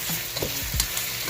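A spoon stirs potatoes frying in a pan, giving a short burst of scraping and sizzling close up, with several brief clatters against the pan surface.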